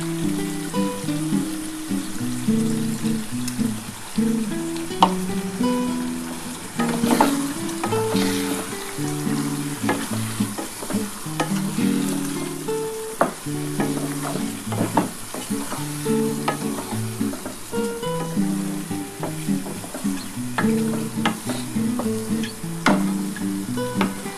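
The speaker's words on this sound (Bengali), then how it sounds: "ভালো করে কষাতে হবে যতটা পরিমাণে কষাতে পারবে" Ground spice paste sizzles in hot oil in a pan for a river fish curry, with steady stirring scrapes and clatter of a spatula over a continuous crackle, close and fairly loud throughout.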